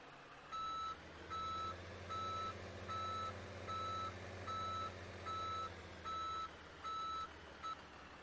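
Steady reversing beeps from a Ford F750 wrecker backing into place, about nine evenly spaced, loud bleeps over a low idling diesel rumble.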